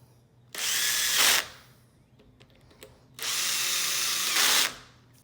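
Power drill driving screws into a door latch striker plate during a door handle install, in two sustained whirring bursts of about a second each, separated by a short pause with light handling noises.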